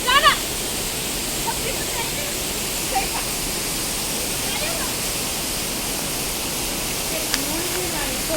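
An unseen waterfall at Hindol in Dhenkanal, Odisha, gives a steady broad rushing wash of water. It stays even throughout with a few faint birdcalls over it.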